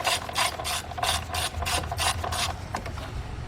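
A ratchet wrench clicks in rapid, rhythmic bursts while tightening a bolt on a vehicle engine, close up with brief pauses between strokes.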